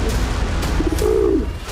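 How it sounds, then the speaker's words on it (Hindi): A pigeon coos once at 12,000 feet in a remote snowy Himalayan area, a short low rolling call standing out against a steady windy background. "एक कबूतर था।"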